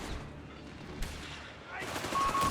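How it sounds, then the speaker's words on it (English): Mortar and gunfire explosions strike a German Flak 30 anti-aircraft gun on a Company of Heroes 3 battlefield, a dense continuous rumble of blasts with a sharp impact near the middle and a louder burst toward the end. "Got the Flak 30 now being hit by mortar fire."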